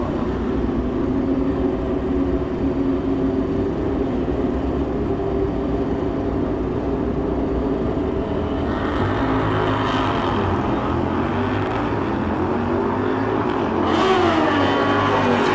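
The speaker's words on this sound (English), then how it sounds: "Tate Horta getting chased down by that fast BMW, 878, 147 miles an hour for Joey Brandgard." A 2014 BMW S1000RR motorcycle on a drag strip gives a loud, continuous engine roar with rising pitch as it accelerates, blending with a second bike and the noise of a crowded race track.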